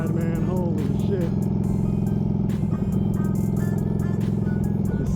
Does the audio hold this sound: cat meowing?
no